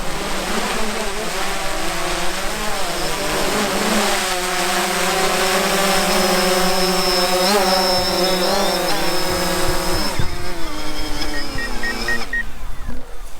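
A DJI Phantom 4 quadcopter drone flying back in and landing, a loud steady high-pitched whine of spinning propellers that shifts in pitch as it approaches, then cuts down near the end.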